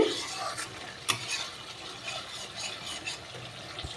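Spice paste fries in oil for a fish-and-potato curry, a soft sizzle broken by scraping stirs and a few sharp clicks of a utensil against the pan, with no talking.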